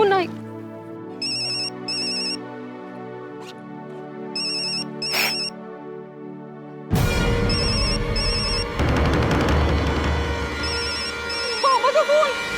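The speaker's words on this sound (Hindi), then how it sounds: "Phone I." A telephone rings in a home, sounding as a repeated electronic ringtone in bursts. Music plays underneath, and after a few seconds a louder stretch of music and voices takes over while the ringing continues.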